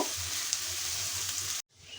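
Chopped onions sizzle steadily in hot oil in a pan for an egg dish, a close, even frying hiss that cuts off abruptly near the end before a softer sizzle resumes.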